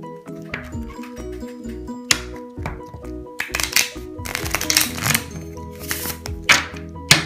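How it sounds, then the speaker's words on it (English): Playing cards are riffle-shuffled close up: a quick run of soft taps builds into a dense, fluttering burst of snapping card edges that ends in clustered riffles. "Let's start off with a quick riffle shuffle."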